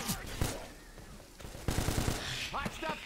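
Gunfire in Left 4 Dead 2: quiet rapid automatic bursts, with a quick rattling run of shots in the middle, while players talk over the action.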